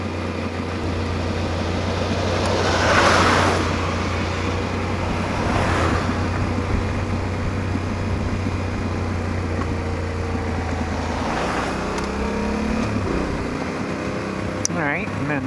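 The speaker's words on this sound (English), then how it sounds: "Here comes a big truck." A big truck passes on a snowy road, its engine rumble building and fading over several seconds as it goes by at moderate distance.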